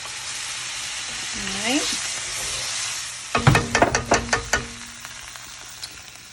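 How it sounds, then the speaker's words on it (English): Beef broth pours into a hot pan of braised lamb shank ragu, giving a loud sizzle with a burst of crackling spits at the start, then a steady frying hiss. A brief voice is heard over it. "And here comes the beef broth."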